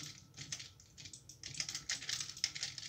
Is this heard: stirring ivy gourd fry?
no